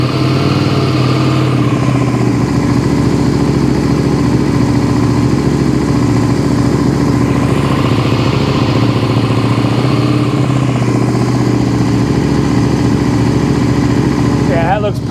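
A Suzuki SV650 motorcycle engine running on only one cylinder, idling loud and near in a continuous uneven chug with a faint voice briefly at the end.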